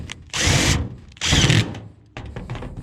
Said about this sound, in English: pop our screws back in the top to get that down secure